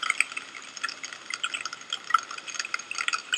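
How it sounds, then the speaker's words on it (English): Pistol shrimp snapping their claws underwater make a dense, fizzing crackle of countless tiny clicks, steady and fairly faint, with no voices. "Most of the din is made by a surprisingly insignificant creature, the pistol shrimp."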